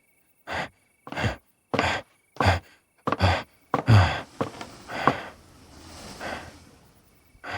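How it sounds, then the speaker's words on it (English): Heavy, ragged panting from a person in distress, a string of loud sharp breaths in quick succession that turn into rougher, faster gasping toward the end, close up with no talking. "all of a sudden, I started panting."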